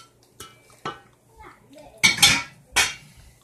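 Green peppers, mushrooms and onion mixture tipped into a pizza casserole dish, several sharp clinks and scrapes of a utensil against the dish, spaced out in short bursts with quiet gaps.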